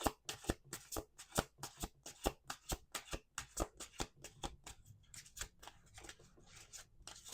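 Playing cards riffled and shuffled by hand in a quiet room, a rapid run of sharp papery flutters and snaps in quick regular bursts, close and distinct with no talking.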